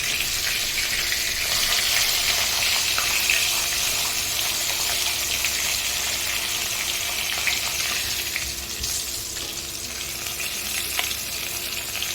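Dark cooking water from boiled taro greens pours through a strainer in a kitchen, a steady hissing, splashing gush that stays loud and continuous, easing slightly near the end.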